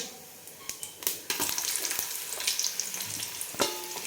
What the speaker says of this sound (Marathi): आपण याच्यात टाकू दोन मोठे उभे कट केलेले कांदा टाकणार आहे